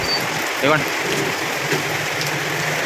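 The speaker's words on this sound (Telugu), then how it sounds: "బలంగా పడుతుంది వాన అయితే" Heavy rain pours down outdoors in a dense, steady hiss of large drops, with a brief spoken word near the start.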